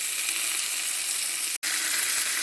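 Chicken pieces for chicken fried chicken sizzle steadily in a hot pan of oil, a dense continuous crackle close by with one brief dropout, no talking.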